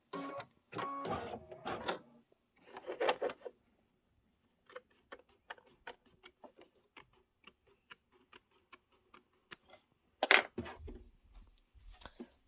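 An embroidery machine stitching a quilt block with a dress form and cross stitch design, sounding as a steady series of sharp mechanical ticks after a few brief bursts of handling noise, with a louder rustle near the end.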